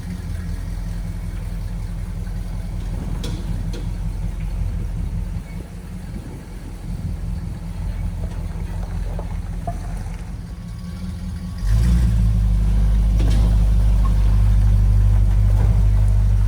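A 1970 GMC truck engine runs at a steady rumbling idle close by, then revs up and holds louder near the end, with no talking.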